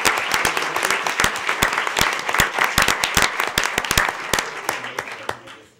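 Applause at a school board meeting, a crowd clapping in a lively, dense burst of sharp individual claps that stays strong and then tapers away toward the end.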